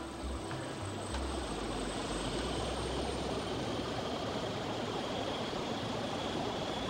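A helicopter on a reconnaissance flight makes a continuous, fairly distant rotor and engine drone that stays steady throughout, with no voices.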